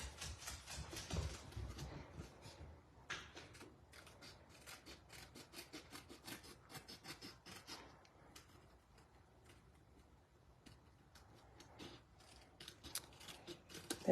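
Scissors trim the edge of a paper card in a crafting setup, a quiet series of close, crisp snips and rustling cuts in irregular bursts, with no talking.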